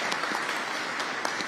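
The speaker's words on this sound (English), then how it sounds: "Let's give her a round of applause." Audience applause at a New York government press event announcing discovery process reforms, a steady wash of many hands clapping at moderate volume for the whole short stretch with no talk over it.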